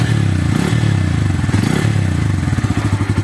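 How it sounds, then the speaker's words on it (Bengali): A Bajaj Pulsar N160 motorcycle engine runs close by, loud and continuous with a low, pulsing throb that grows slightly choppier toward the end. It sounds uneven, and no one speaks over it. "আর এই হচ্ছে ইঞ্জিনের সাউন্ডটা"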